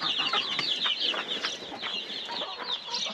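Broody hens in a hobby chicken coop in Taşköprü, Kastamonu, giving soft, continuous clucks and murmurs, close by and fairly quiet, with no voices over them.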